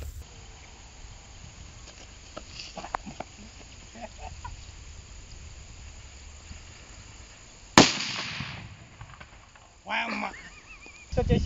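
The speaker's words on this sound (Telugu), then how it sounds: "చలో క్లాసిక్ బాంబ్ వేసి చూద్దాం మనము." A Diwali classic bomb firecracker goes off outdoors with one sharp, loud bang, followed by another crackling burst, against a background of chirping insects and some speech.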